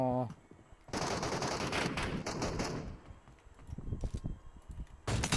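Gunfire in PUBG Mobile comes as rapid automatic bursts of sharp shots, loud and close, separated by brief pauses and a few scattered single reports.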